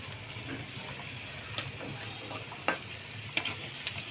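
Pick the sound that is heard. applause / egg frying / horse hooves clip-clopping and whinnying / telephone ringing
egg frying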